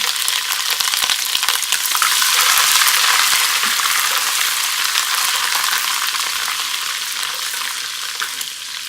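Garlic and ginger paste frying in a pan for a chicken curry gives a steady, bright sizzle that holds loud and even for the whole stretch, with no voices.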